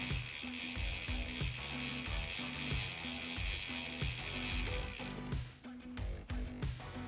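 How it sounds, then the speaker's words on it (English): A bicycle chain is spun backwards after lubrication, producing a quiet, steady ratcheting click from the freewheel with a rhythmic mechanical pulse, then a few rustling handling noises at the end. "we want to cycle the chain to make sure that the lubricant gets into every link"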